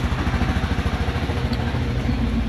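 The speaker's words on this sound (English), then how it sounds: "you may have heard the Mustang going over here" A Ford Mustang engine runs close by, a steady, low, rhythmic pulsing rumble that holds evenly for the whole stretch with no talking.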